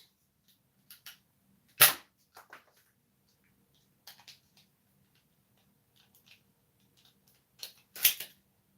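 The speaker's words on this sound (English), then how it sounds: "I'll go ahead and shoot the other two darts" A toy dart gun fires darts at a homemade shooting range, with a few sharp, isolated snaps and clicks spread across several seconds, close by and otherwise quiet, with no voices.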